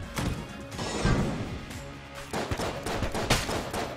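Gunfire and crashing hits from the video game Enter the Gungeon, rapid bursts of shots and impacts running continuously at a moderate level through the whole stretch.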